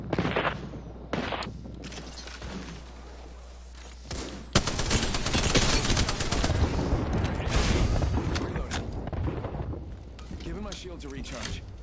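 Gunfire from long guns in the video game Apex Legends, with sharp shots and then dense, sustained bursts of rapid fire, loud and up front, while a voice talks over parts of it.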